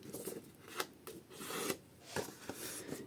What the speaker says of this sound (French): Donc on marque le pli